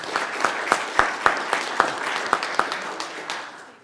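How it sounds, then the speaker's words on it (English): A sparse round of applause at a city council meeting, with a few loud, distinct claps ringing out over a softer spread of clapping for several seconds. "we'll make sure that she knows she got a great round of applause"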